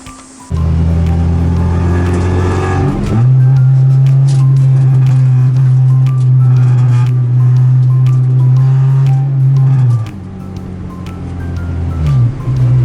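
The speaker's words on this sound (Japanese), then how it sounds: "ちょっと試運転しながら見てみたいと思います" A Honda Civic Type R EK9 with lowered rear suspension revs and hums loudly on a test drive, holding a steady drone, dropping off briefly near the end, then picking back up.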